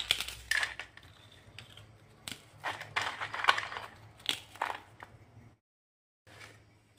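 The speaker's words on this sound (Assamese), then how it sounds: "এনেদৰে গোটেইকেইটা বিস্কুট ভাঙি দিম।" Dry biscuits snapped apart by hand for a three-ingredient biscuit cake, giving a run of close, crisp cracks and crumbly crunches in uneven bursts, with a short silent pause near the end.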